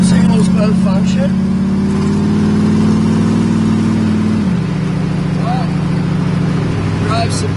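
A 1947 Ford Custom's engine hums steadily while the car drives down a road, a loud, even drone that shifts pitch partway through as the engine changes speed, with faint clicks and rattles over it.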